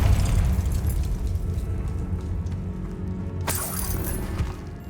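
A Confringo fire spell blasts in the Hogwarts Legacy video game, a sudden bright burst with a shattering, explosive crack late in the clip, rising over a heavy, rumbling game soundscape.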